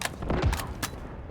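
Gunfire in the video game Halo Infinite, a few sharp close shots with thumping impacts spread over about a second, heard alone without talk.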